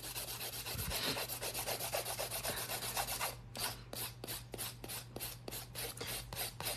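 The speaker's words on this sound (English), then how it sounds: "The electric file that I am using" A steady rasping, rubbing buzz of a small electric nail file with sanding band grinding an acrylic nail, shifting into short repeated strokes toward the end.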